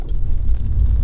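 A 2020 Renault Sandero RS rolls over a speed bump at about 30 km/h, a steady low engine and road rumble with a faint scrape under the front end, no talk.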